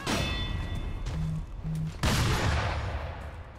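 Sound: sniper gunshots in video game Sekiro

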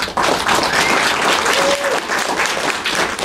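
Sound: applause

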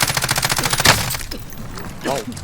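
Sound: gunfire in Call of Duty: Warzone video game

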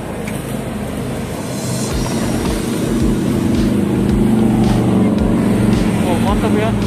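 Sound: big motorcycle passing on street

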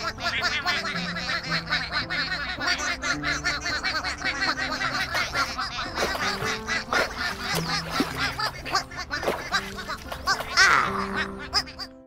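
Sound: ducklings quacking in a kids' counting video game

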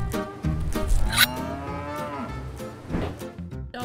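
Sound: cows mooing on a dairy farm

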